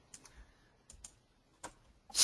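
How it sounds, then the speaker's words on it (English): Computer keyboard keys are pressed in a few quiet, separate clicks, including arrow keys held with Control, while a box is designed on screen. A sharper burst of clicks comes at the end, and nobody talks. "use my down arrow key with the Control press to move it faster until it's just barely overlapped"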